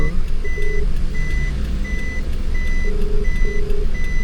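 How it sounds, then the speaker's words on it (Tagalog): Trucks in a busy Manila delivery area, with steady, evenly spaced reversing beeps from more than one vehicle sounding over loud, rumbling engine noise and traffic. "Puro truck dito."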